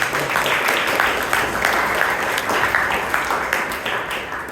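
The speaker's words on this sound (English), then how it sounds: "So please give Shreya and Vijay a big round of applause" Audience applause at a Toastmasters club meeting in Bangalore, a steady dense patter of many hands filling the room for several seconds with no voices standing out.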